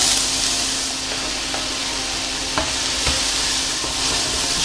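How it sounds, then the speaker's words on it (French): Apples sizzle steadily in hot butter in a pan, a continuous close frying hiss with a few soft clicks of stirring. "La poêle est chaude, je vais mettre mes pommes"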